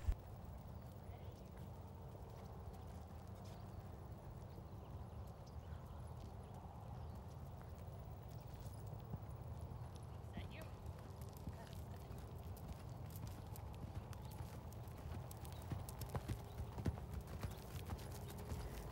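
A Standardbred horse canters on the right lead over wagon wheel poles, its hoofbeats a steady, rhythmic clip-clop heard at moderate distance under continuous low ambient rumble.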